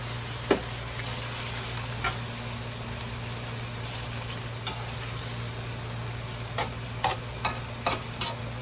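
A pan of food simmers after water is added, giving a soft, steady hiss with a low hum beneath and a few sharp clicks of a utensil against the pan near the end.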